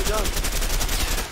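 Rapid automatic gunfire from the video game A Way Out, a dense, loud burst of close shots lasting about a second.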